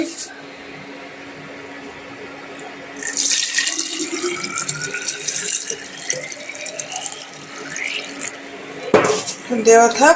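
Hot water poured into a container to rinse its inside, a splashing, gurgling pour that starts partway through with light clinks of the vessel, while someone talks over it.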